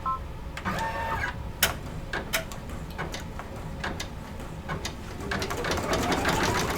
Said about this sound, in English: So I just use whatever threads in my machine to do that placement stitch.